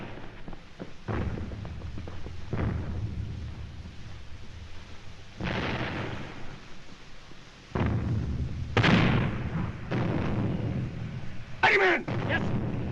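Gunfire and heavy booms from a video game battle, several loud bursts rumbling through a dense, constant background, with a few sharp cracks near the end.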